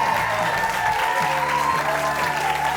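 Studio audience applause for a comedian on a live talk show, a dense, loud wash of clapping and cheering that continues throughout, with no speech over it.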